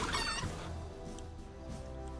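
A chicken clucks in the fantasy strategy game Age of Wonders III, a short burst of fowl calls at the start followed by a low, steady in-game hum with faint effects.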